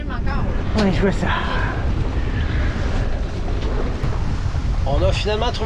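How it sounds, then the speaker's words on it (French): Wind rushing over a sailboat out past the marina toward a point, a steady broadband roar under people talking at the start and end. "On a finalement trouvé le vent."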